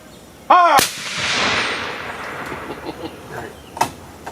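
A volley of rifles fires at once during a historical reenactment at Fort Harker, one sharp loud crack that rolls into a long fading echo, after a shouted command, with a few faint distant pops trailing afterward.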